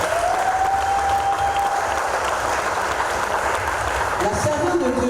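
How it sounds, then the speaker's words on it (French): A church congregation claps and cheers loudly, a dense, sustained wall of applause lasting the whole stretch, with a few tonal sounds rising faintly over it. "que nous saluons en acclamant très fort le Seigneur"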